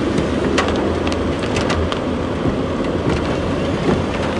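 Steady rain pours down during the rainy season on an outdoor route in Shizuoka near the Sakuma dam tunnel, a dense continuous hiss with faint low rumble throughout and no voices.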